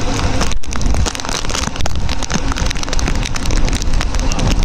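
Heavy rain pours steadily onto a flooded road near Belgaum on the Yellur road, a loud, continuous dense hiss with no pauses.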